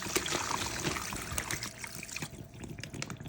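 Cold water pours and trickles steadily over a turkey in a brine container, a continuous close splashing that thins out toward the end.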